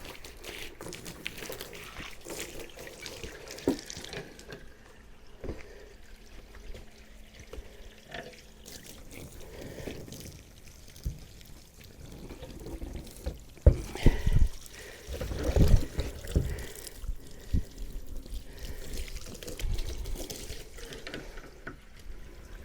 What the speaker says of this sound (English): I'm going to rinse this thing out and fill it with water and let the water run through.